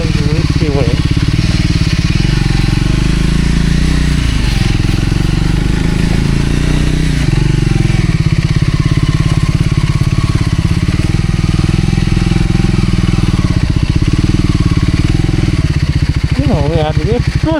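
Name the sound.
motorcycle riding on slippery red-mud off-road track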